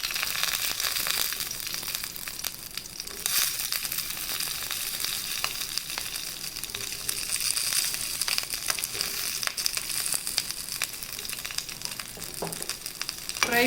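Green chilies fry in ghee in a kadai over the flame, a loud, close, continuous sizzle and crackle that holds steady throughout with no voices.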